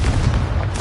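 Confringo blasting spell exploding in Hogwarts Legacy, a loud, dense, rumbling burst that fills the whole short moment, with no talk.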